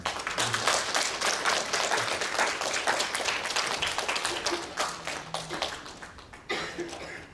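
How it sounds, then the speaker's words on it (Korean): A church congregation claps continuously at moderate volume during a worship service, the applause thinning slightly toward the end, with a few scattered coughs. "우리 박수로 환영해 주시면 감사하겠습니다."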